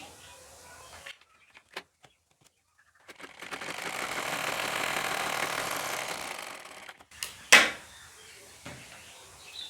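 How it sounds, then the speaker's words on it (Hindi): Sewing machine running a straight stitch on a lined blouse, a steady whirring burst for about four seconds between quieter handling clicks and knocks, close up. "यहाँ पे ऐसे हमें सीधी सिलाई लगानी है।"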